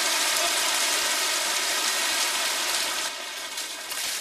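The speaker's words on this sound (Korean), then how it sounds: "쏟아지는 빗물에 한 번," Heavy rain pours down steadily in Palau, a dense, continuous close-range hiss of water on surfaces that stays loud and unbroken throughout, easing only slightly near the end.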